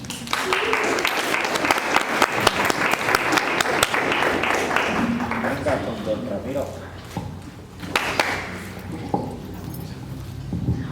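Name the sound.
audience applause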